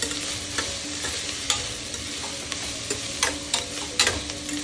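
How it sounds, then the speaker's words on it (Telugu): Sliced onions and slit green chillies frying in oil in a pressure cooker for mutton curry, a constant close sizzle with repeated spoon scrapes and clinks as they are stirred. "ఒక్కసారి కలుపుకుంటున్నాను."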